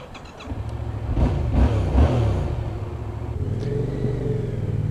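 A vehicle engine revs as the rider sets off, a close, rumbling roar that swells in a couple of throttle surges before settling into a steadier running growl.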